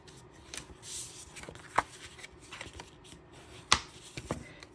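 A scored piece of paper cardstock for a trifold card is folded by hand, giving a few soft crisp creases and snaps at uneven intervals against quiet room tone.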